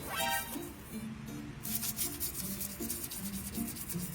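Motorcycle engine parts are scrubbed by hand, giving repeated, close rubbing strokes in an uneven back-and-forth rhythm at moderate volume, with no talk.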